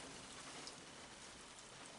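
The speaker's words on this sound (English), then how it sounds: "Yep, starting to rain." Rain begins to fall outdoors, a soft, steady patter of drops on surfaces, faint and continuous with no voices.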